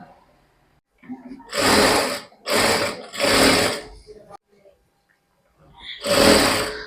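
A sewing machine stitches elastic onto cigar pants, whirring in four close, loud runs that each last about a second, with short pauses between them.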